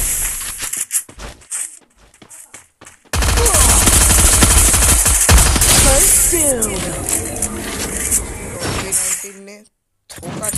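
P90 gunfire in a mobile battle-royale shooter game: loud sustained automatic bursts with rapid shots and clattering effects, heard under an excited voice talking throughout.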